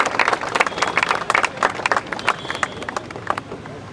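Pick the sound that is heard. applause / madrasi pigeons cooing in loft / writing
applause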